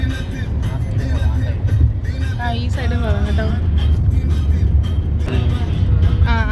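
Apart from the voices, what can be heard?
car ride, family getting into and driving the car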